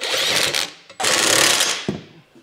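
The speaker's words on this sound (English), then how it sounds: "we're gonna go ahead and tighten all these down using 11/16 socket" Two short, loud bursts of rapid rattling from a power impact tool tightening trailer hitch bolts with an 11/16 socket, for a Draw-Tite Max-Frame receiver, followed by a brief clunk.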